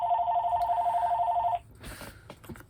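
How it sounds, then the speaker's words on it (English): A landline telephone rings indoors with a steady electronic trill lasting about a second and a half and then stops, followed by faint rustling and handling noise. "So the phone rings constantly all day here"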